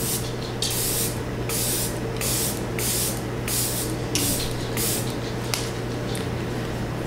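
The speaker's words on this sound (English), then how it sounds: "so I'm gonna spray my face." Setting spray misted onto a face from a fine-mist bottle: a rapid series of about nine short, close hissing bursts in steady rhythm over a constant low background hum.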